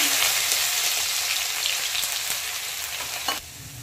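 Crushed garlic and nigella seeds sizzle loudly in hot oil, a bright crackling hiss with a few stir scrapes that softens slightly toward the end.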